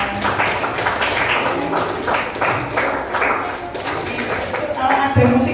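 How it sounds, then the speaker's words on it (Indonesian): A group of pupils in a classroom clap their hands together in a loud, close burst of rhythmic claps while voices talk over the top. "Oke, tepuk tangan buat semuanya"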